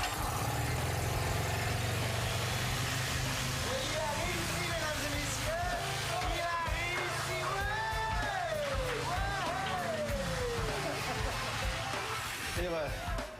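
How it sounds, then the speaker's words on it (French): Engine running on wood gas in place of petrol, a steady low rumbling drone heard at moderate level beneath continuous talk throughout. "Mais elle est assez pure que je puisse risquer de faire fonctionner un moteur avec."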